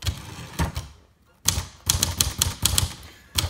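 A 1971 Royal Sprite portable manual typewriter made by Silver Seiko clacks through short runs of keystrokes, crisp and close, with a brief pause between bursts.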